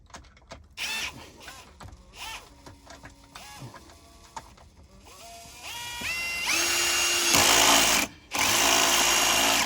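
A power screwdriver drives a screw into the handle of a Hoover Elite Rewind vacuum, its motor whirring in rising and falling bursts that build to a loud sustained whine near the end, with a brief stop before it resumes.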